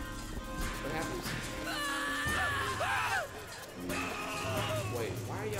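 Video game characters screaming and yelling in a shrill, excited clamor, with overlapping cries rising and falling over a few seconds and a voice speaking amid them.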